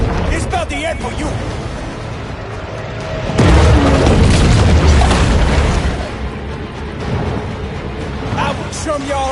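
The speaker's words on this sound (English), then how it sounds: "Can y'all out swim a torpedo?" A torpedo explodes in the shark game Maneater, a sudden loud underwater boom that bursts in mid-clip and rumbles for a couple of seconds before fading, with someone talking before and after it.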